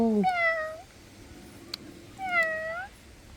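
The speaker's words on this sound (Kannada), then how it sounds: "ಏ ಬೆಕ್ಕು" A cat gives two drawn-out, falling meows, close and clear, with a short pause between them and a faint click in the gap.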